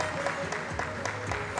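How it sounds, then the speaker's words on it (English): An audience at a university speech event gives a steady round of applause, a short continuous spell of clapping with a few sharper claps standing out. "Please give her a round of applause and a standing ovation as she walks through the program."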